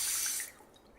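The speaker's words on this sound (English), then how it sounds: "Now get some water in your hand." Water from a tap splashes briefly into a cupped hand for ablution, a short bright rush that cuts off and leaves a faint trickle.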